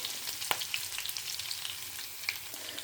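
Dried red chillies and curry leaves sizzle hard in hot sesame oil with mustard seeds already in the pan, a loud, continuous crackle with sharp pops throughout and no voices.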